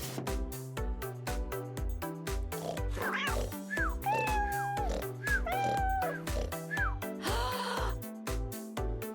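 A cat meows repeatedly in clear, drawn-out calls over a rhythmic thumping background beat from a game soundtrack, close and distinct, with no speech.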